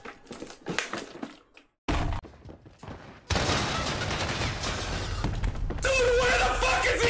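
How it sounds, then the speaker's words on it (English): Gunfire in the video game Warzone: scattered shots and thumps with a voice at the start, then a dense, loud barrage of rapid fire with crashing impacts that grows harsher toward the end. "Shooting!"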